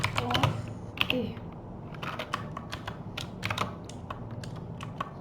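Someone types printf statements in C on a computer keyboard, with quick clusters of sharp, close key clicks and short pauses between bursts, and faint speech in the background.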